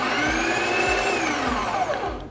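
The built-in grinder of a Breville Barista Express grinds coffee beans with a loud, steady whirring drone and a rhythmic low thump, winding down at the end.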